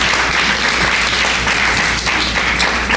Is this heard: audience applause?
yes